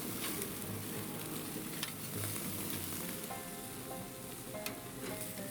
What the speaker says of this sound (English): I'm going to be flipping these burgers probably once every 2 or 3 minutes